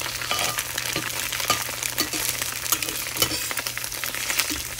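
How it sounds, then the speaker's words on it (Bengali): Tofu cubes sizzle in hot oil in a pan, a steady crackling fry with scattered pops and occasional scrapes, fairly close with a low background hum and no talking. "টোফুগুলো এরকম করে চোকো চোকো করে বানিয়ে তারপরে ভেজে নিচ্ছি।"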